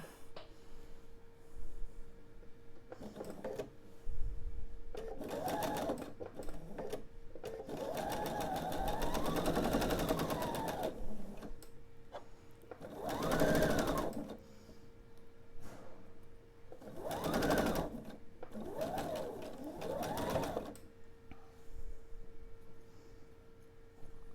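A sewing machine stitches a quilt seam, joining two pieced halves for a table topper, in several short and longer whirring runs separated by pauses, close and moderately quiet with faint background hum.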